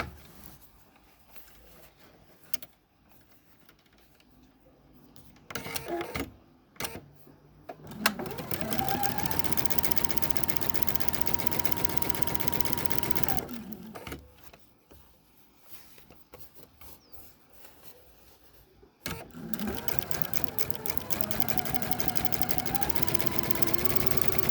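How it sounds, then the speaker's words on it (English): A sewing machine stitches quilt block pieces for a bordered Monkey Wrench block by chain piecing, running in steady bursts of varying length separated by short pauses, close and loud. "And I do mine as chain piecing, so I just keep right on going on the second one."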